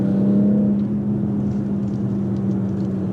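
A 2019 BMW X4 M40i engine hums with a steady low drone while accelerating on a B road, heard from inside the cabin, smooth and fairly loud.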